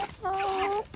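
A young rooster gives a single short, close, tonal call lasting under a second among a flock of hens at feeding time.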